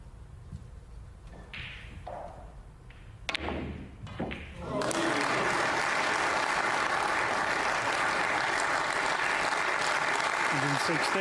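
Sustained, loud crowd applause fills a snooker arena at the 2023 English Open match between Ronnie O'Sullivan and Zhang Anda, swelling in after a few scattered knocks and thuds and holding steady to the end.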